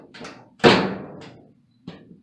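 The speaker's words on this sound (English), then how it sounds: "you can see what happened when I'm closing the door" A Whirlpool/Kenmore dryer door swung shut with one solid thud and a brief rattle, preceded by light handling knocks and followed by a smaller click.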